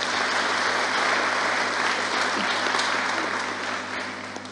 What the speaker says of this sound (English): kindly just give them a round of applause